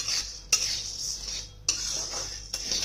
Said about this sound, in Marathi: साबुदाणे करपायचे नाही, चांगले असे गरम करून घ्यायचे, चांगले भाजून घ्यायचे।